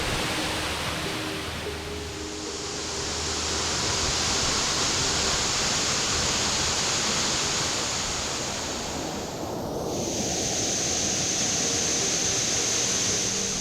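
Millard Falls, a roughly 60-foot waterfall in the Angeles National Forest, pours down heavily in a steady, loud, close roar of rushing water with no talking.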